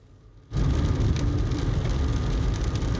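Heavy rain pours down steadily on the war-damaged roads of a frontline district in Zaporizhzhia region, starting abruptly and then holding as a loud, dense, unbroken hiss close by.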